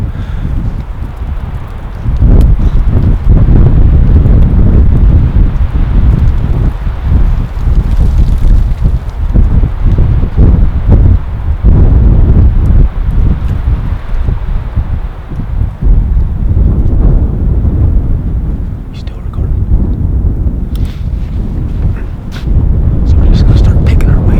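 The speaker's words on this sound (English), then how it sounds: "we've got a real strong wind coming up this face right here" Strong wind gusting up a mountain face during an elk bowhunt on public land, a loud continuous roar with buffeting microphone noise and rustling that swells and dips throughout.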